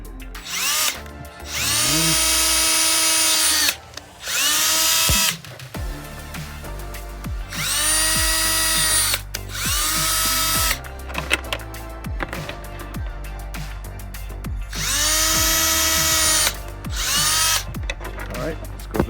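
A power drill whines at high speed drilling mounting holes for universal mudflaps, several long bursts separated by short pauses, close and loud, with brief quiet moments between holes.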